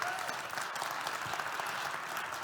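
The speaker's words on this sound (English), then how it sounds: "Give a big round of applause." A theatre audience applauds a volunteer coming up on stage at a magic show, continuous even clapping from a crowd, heard at moderate distance and fairly quiet.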